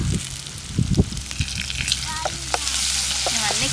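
Chopped onion, green chillies and curry leaves sizzle in a hot pan, with a few stirring knocks early on, and the frying hiss swells louder and steadier toward the end.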